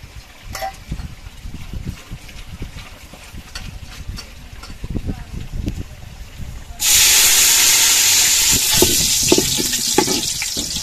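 Cardamom, cinnamon and bay leaves hitting hot oil in a pan for duck curry: quiet stirring clatter, then a sudden loud, steady sizzle that carries on to the end.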